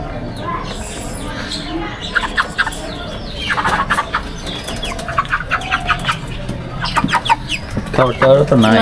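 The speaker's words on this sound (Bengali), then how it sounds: "এই প্রথম আমি ব্রয়লার মুরগি পুষছি" Broiler chickens on a poultry farm cluck and chirp in a busy, continuous flock chorus, with bursts of louder calls toward the end and background chatter mixed in.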